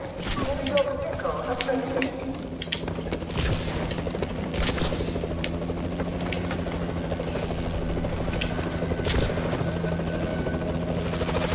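Warbird aircraft from Call of Duty Advanced Warfare Zombies approaching as a loud, steady helicopter-like rotor roar, with game music and scattered gunfire-like bursts layered throughout.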